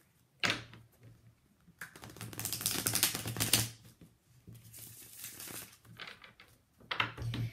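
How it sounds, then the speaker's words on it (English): Cards are riffled and shuffled in several bursts of rapid papery flutter and clacking, close by, with brief pauses in between. "Let me just shuffle."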